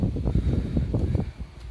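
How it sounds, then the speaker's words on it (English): Wind buffeting a microphone outdoors beside a Dodge Ram 1500 pickup, loud low rumbling gusts that thump and roar unevenly, easing briefly near the end. "Sorry about the wind, it's a bit windy now."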